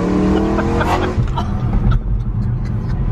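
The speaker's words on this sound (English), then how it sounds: "Sounds like a fucking Formula One car!" A tuned BMW E92 M3 engine revs hard, a loud high-pitched rising howl that cuts off after about a second and falls to a rumbling, burbling idle close by.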